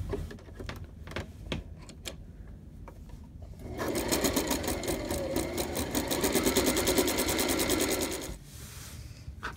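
A sewing machine top stitching around the edge of a baby bib, running in a fast, steady mechanical rattle for several seconds after a few short starts, then stopping, close and clear with little else around.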